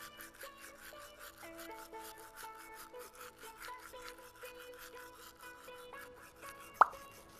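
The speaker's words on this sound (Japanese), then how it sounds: "下の奥歯に歯ブラシを当ててから奥から前に10回くらい動かしてみよう。" A toothbrush scrubbing the lower back teeth, a faint steady series of short brushing strokes with a single sharp tap near the end.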